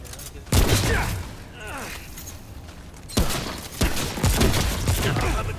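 Gunfire rattles in the video game Remnant, two dense bursts of loud, close shooting separated by a lull, with players talking over it.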